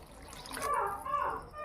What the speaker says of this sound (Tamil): தேவையான அளவுக்கு தண்ணீர் ஊற்றிக்கலாம்.